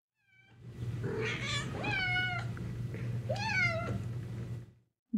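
A cat meows several times, close and clear, its cries rising and falling over a steady low hum.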